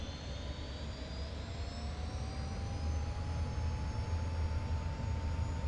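An F-86F jet engine in the DCS flight simulator spooling up toward 90 RPM while parked with the brake set, a steady roaring whine with tones that slowly climb in pitch as the power builds.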